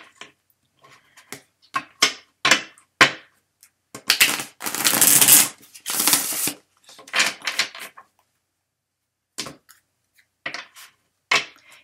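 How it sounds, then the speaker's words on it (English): Cards being handled and shuffled in irregular bursts of rustling and flicking, with a longer loud riffle in the middle, close up. "Okay, so I will shuffle my cards"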